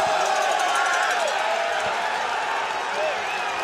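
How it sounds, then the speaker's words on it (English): Cyclocross race spectators along the course cheering riders at a World Cup event, a continuous roar of shouting and whooping with scattered claps, steady and fairly close. "Along this section with the crowd in this theatre as they cheer these riders on"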